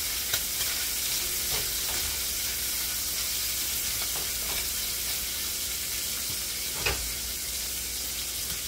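Bacon cooks with a loud, steady frying hiss close by, broken by occasional stirring scrapes and a firmer knock partway through.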